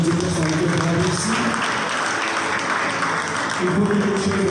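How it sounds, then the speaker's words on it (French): An audience applauds at a Congolese awards ceremony in Paris, a dense patter of clapping throughout while a person speaks over it on a microphone. "on peut applaudir les personnalités de la ici"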